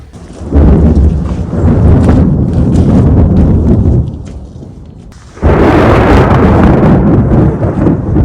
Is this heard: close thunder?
yes